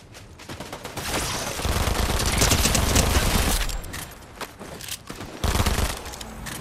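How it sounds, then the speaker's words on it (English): Dense, sustained gunfire from a shooter video game, overlapping bursts swelling loud in the middle and fading, then returning, with no talk over it. "Somebody else shot at me."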